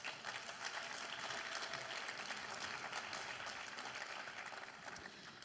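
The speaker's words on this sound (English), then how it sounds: "Please give everyone a round of applause" Steady applause from an awards-evening audience honoring recipients, a dense even wash of clapping that holds for several seconds before easing slightly at the end, with no voices over it.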